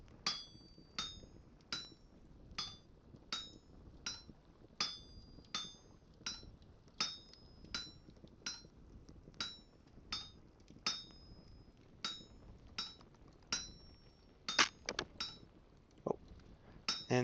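Metal hammer strikes from Vintage Story ring out in a steady rhythm, roughly one clear clink every second over about fifteen blows, with quicker irregular hits near the end.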